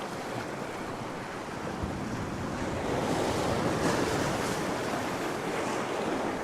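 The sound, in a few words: ocean waves washing over rocks at the shore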